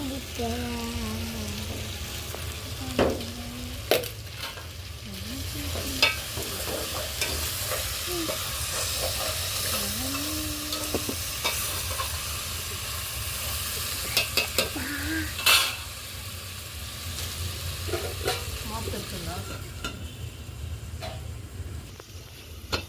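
A vegetable curry fries in a pan over a firewood stove, with a steady sizzle throughout and repeated stirring that brings scrapes and occasional clinks of a spoon against the pan.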